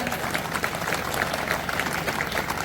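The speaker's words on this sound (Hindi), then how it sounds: "अपने अध्यापक के लिए ताली" Audience applauding teachers at the inauguration of a Kendriya Vidyalaya school in Chanderi, a steady, loud wash of many hands clapping throughout with faint crowd murmur.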